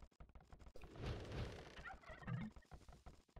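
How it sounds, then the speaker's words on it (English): Turkeys gobble in a real-time strategy video game match, two or three short burbling calls close together over a few seconds, clear and prominent with no voices. "They're still gathering their turkeys."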